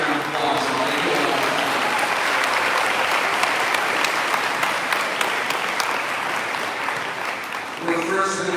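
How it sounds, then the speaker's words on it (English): A large audience claps steadily and loudly at a middle school 8th grade promotion ceremony, a continuous wash of hand claps lasting several seconds before voices come in at the very end. "this deserves a round of applause"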